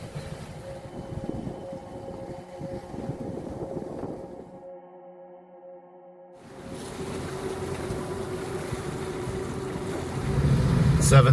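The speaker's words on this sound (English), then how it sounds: "Motor is on, as you can hear. I'm motor sailing now." A sailboat's engine drones steadily while motor sailing on the open Atlantic, a low constant hum under wash and wind noise that dips briefly midway, then returns louder with water rushing near the end.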